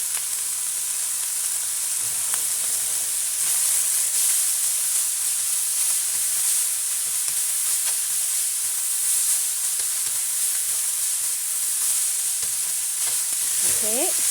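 Shredded cabbage stir-frying in a hot pan for pork spring rolls, a continuous loud sizzle and hiss with occasional scraping of the utensil against the pan, close up and steady throughout.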